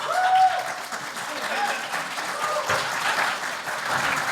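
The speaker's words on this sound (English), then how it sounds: "Someone in the audience clap for me." A live podcast panel audience claps on request in a steady wash of applause from a crowded room, with a few voices and cheers mixed in.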